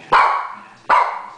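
A puppy gives two sharp, loud barks about three-quarters of a second apart, close by, each with a quick attack and a short trailing tail, with no talk over them.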